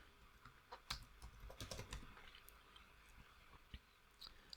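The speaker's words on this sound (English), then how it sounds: "So type in the set command and type in set" A command being typed on a computer keyboard in the Betaflight CLI, heard as faint, quick irregular key clicks in short bursts, close and quiet with no talking.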